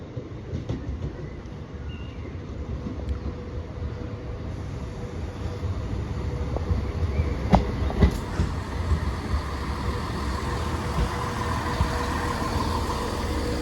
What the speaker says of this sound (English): here comes the 1419 East Midlands Railway service to Newark Castle via Derby and Nottingham from Crewe